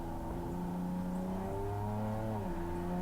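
A BMW M3 accelerates at full throttle on the Laguna Seca race track, its engine note rising steadily and continuously with a shift-like dip near the end, heard from inside at moderate loudness with no talk.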